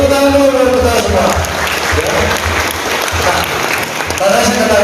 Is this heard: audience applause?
yes